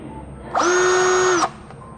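Cordless drill screwdriver YT-82782 running, a single burst of about one second with a steady high motor whine that starts and stops sharply, close and alone in a quiet room.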